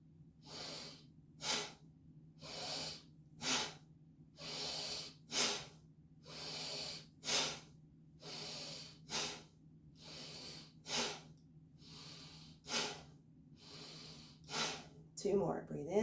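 Fast, forceful exhalations during a qigong breathing exercise, a steady rhythmic series of about a dozen sharp breaths out, each a short close hiss with brief gaps, over a faint constant low hum.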